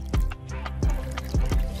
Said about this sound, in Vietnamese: Xả nước vô mình rửa cho bo bo nó sạch